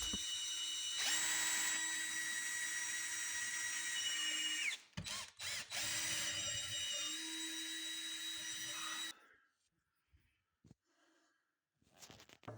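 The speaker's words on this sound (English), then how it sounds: "I use my Forstner bit for smooth boring." A power drill with a Forstner bit bores a half-inch hole in picket wood, whining steadily and loudly for several seconds, with a brief pause and a second run before it winds down to quiet handling noises.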